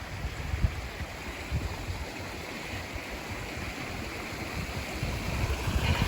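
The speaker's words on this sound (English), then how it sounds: "Tiny little dam right there." Steady outdoor rush of water pouring over a tiny dam in a trail-side stream, a constant broadband wash with low gurgling and no voices.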